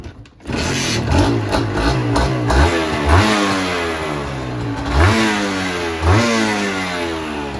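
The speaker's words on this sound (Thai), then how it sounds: "ลองฟังเสียงเครื่องกันนะครับคันนี้สตาร์ททีเดียวติดนะครับ" A Honda NSR two-stroke dirt bike idles and revs repeatedly at close range, its loud, raspy engine rising and falling through several throttle blips.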